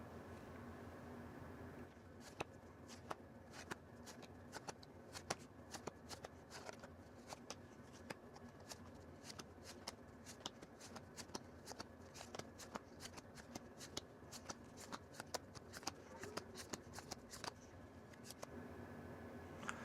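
Tarot cards shuffled continuously at close range, a long run of rapid crisp riffling flicks that begins after a short quiet lead-in.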